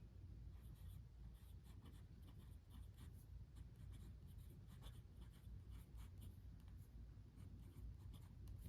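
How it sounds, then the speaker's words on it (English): A pen scratches steadily across the pages of a large dashboard-style paper planner, making continuous close writing strokes with no pauses and no talk. "I am writing at the weirdest angle"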